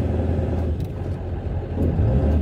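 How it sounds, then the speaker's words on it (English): Diesel engine of a 1996 Ford F-250 pickup with a 7.3L V8 and performance tune, rumbling steadily and loud from inside the cab as the truck makes a U-turn, with a slight rise in low-end throb near the end. "Dude, this truck is brutal with this tune."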